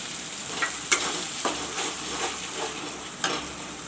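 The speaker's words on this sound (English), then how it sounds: "I will let this fry a bit." Tomato puree frying in browned masala for a spicy egg curry, with a steady soft sizzle and a few sharp stirring scrapes of the spoon against the pan, close by and with no talking.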